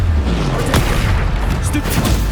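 Bombarda spell blasts from the Hogwarts Legacy video game, a dense run of booming, gunfire-like explosive bursts layered over a continuous rumble, loud and close throughout, with a sharp crack near the middle.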